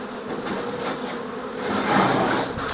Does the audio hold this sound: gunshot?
no